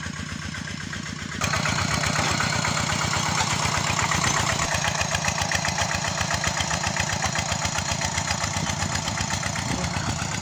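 Farm tractor engine running close by at a steady, rapid chugging beat, starting slightly quieter and then rising to a louder, even throb that continues without a break.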